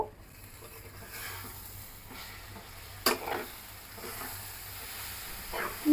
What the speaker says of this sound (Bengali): এবার দিয়ে দিব ঘি এবার আমি খুব সুন্দর করে মিশিয়ে দিব